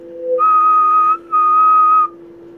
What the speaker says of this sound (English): Can whistle.